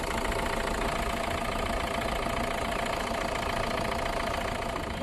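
An overhauled Hyundai Creta engine idles on its own at a steady, even rhythm for the whole stretch. A light knocking clatter and mechanical vibration sit in the tone, heard close to the engine bay at moderate loudness.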